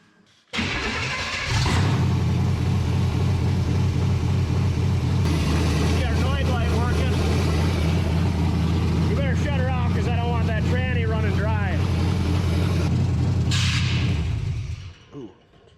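A chassis-swapped 1953 car engine cranks on its starter, a loud, close, steady grinding churn lasting over ten seconds, with a voice talking over it partway through before it cuts off.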